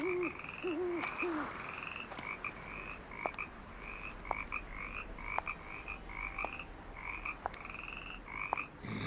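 A dense chorus of frogs croaks at night in the Nancy Drew game Curse of Blackmoor Manor, with a quick run of repeated calls and scattered clicks over a constant background hiss.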